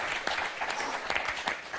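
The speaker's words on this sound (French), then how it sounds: "on va vous applaudir très fort, Laurent, Bernadette." Studio audience applause on the French TV game show Motus: a dense, steady patter of many hands clapping at close range, lasting under two seconds, with no one talking over it.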